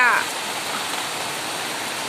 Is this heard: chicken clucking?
no